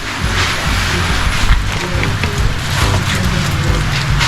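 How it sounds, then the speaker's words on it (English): Steady rain falls outdoors, a dense, continuous wash of patter on surfaces that stays loud and even throughout, with occasional faint voices in the background. "Natural, actually it's raining."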